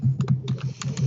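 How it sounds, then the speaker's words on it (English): Rapid computer keyboard typing in a meeting room, close and distinct, with irregular clustered keystrokes over a low background hum. "I can't hear over your typing"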